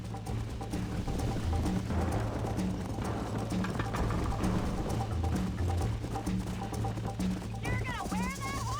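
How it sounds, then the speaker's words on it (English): Horse hooves galloping in the Western video game Red Dead Redemption, a fast continuous clatter under a busy mix of music and game sounds, with a brief whinny-like cry near the end. "You're gonna wear that horse out."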